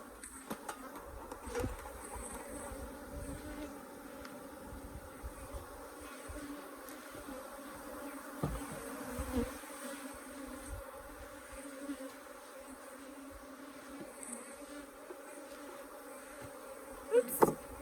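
Africanized hybrid honey bees buzzing around an open donor hive in southern Arizona: a continuous, faint swarm drone with individual bees zipping close past at intervals, plus light handling knocks.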